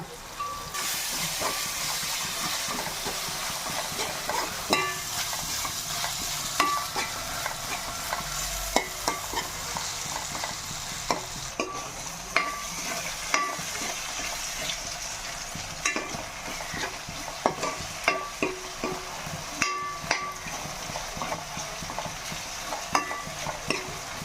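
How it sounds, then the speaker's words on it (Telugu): Ginger-garlic paste fries in a pan for Nellore fish curry, giving a steady, close sizzle and hiss with frequent scraping stirs throughout. "అల్లం వెల్లుల్లి పేస్ట్ త్రీ స్పూన్స్ వేసుకోవాలి అల్లం పచ్చి పచ్చివాసన పోయేదాకా బాగా వేపుకోవాలి"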